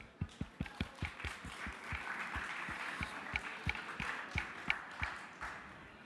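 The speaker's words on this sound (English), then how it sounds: "Please, a round of applause for our sponsors." Audience applause after a call to thank the sponsors at a student-organized AI summit, heard as sparse, individual claps at a moderate distance, thin and uneven rather than a full ovation, with no talking over it.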